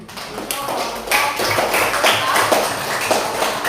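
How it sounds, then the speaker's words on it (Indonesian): Classroom applause for a student group's presentation, a burst of many hands clapping in quick irregular taps, close and fairly loud, sustained for several seconds. "kita berikan tepuk tangannya"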